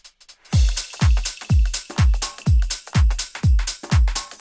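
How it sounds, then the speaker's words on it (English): Electronic drop drum pattern in a dance track, punchy deep kicks on a steady four-to-the-floor pulse with crisp hi-hats and washy crashes layered above, loud and without talk. "So altogether, the drums for the drop are going to sound something like this."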